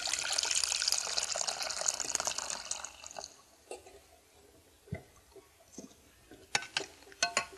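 Water poured into a cooking pot while making a vegan pumpkin flan, a steady broadband pour for about three seconds, then fading into scattered drips and light clinks nearby.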